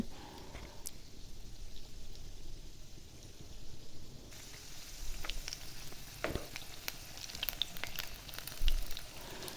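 Designed pitha cakes fry in hot oil with a faint, steady sizzle and scattered crackles and pops, heard quietly throughout without speech.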